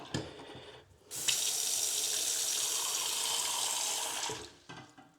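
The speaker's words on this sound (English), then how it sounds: "Water's running, hot water is on." Hot water from a faucet pours into a sink in a steady, hissing gush that starts after a second of quieter sound, holds for about three seconds, then cuts off abruptly.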